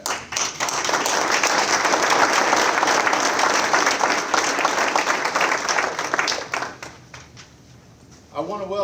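An audience at a national signing day ceremony claps in a sustained burst of dense applause that fades after about seven seconds, when a voice begins speaking.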